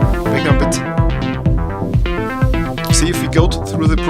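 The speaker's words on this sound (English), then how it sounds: "Now let's listen to the bass line." A pulsing synth bass line drives under a busy electronic track with drums and chords, a steady rhythmic throb repeating every half second.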